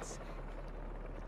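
A helicopter's low, steady thrumming rotor drone in the video game Marvel's Spider-Man 2 fills the clip evenly from start to end, with no speech over it.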